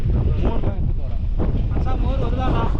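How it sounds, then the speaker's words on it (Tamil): Strong wind gusts roar across the microphone on a misty hill trek in the Yelagiri hills, a loud continuous buffeting with voices talking underneath. "காற்றும் செமையா அடிக்குது."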